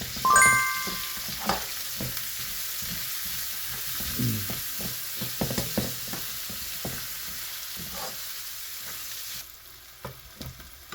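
Onion sizzles in a hot frying pan while a Filipino ground meat omelette (tortang giniling) is being made. A steady crackle runs under intermittent stirring and scraping sounds, with the sizzle easing toward the end.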